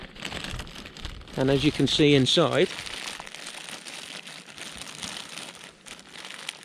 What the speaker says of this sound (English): Valiant Peak will also give you some of these plastic bags